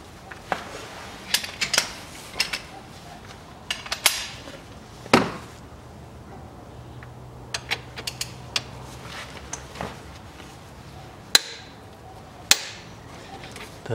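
Timing pulley bolt on a 2.2 Range Rover Evoque being torqued to 70 Nm with the flywheel locked, heard as close metallic clicks, ratchet ticks and sharp knocks in irregular bursts with quiet gaps between.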